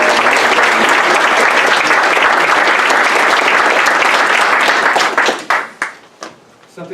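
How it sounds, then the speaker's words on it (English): A large audience claps at a US Air Force retirement ceremony at JBSA-Randolph, Texas: loud, dense, steady applause close by that thins out and fades over the last couple of seconds. "let's give a round of applause for the Line of Blue"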